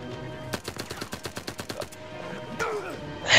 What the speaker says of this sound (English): The guns sound awesome, too.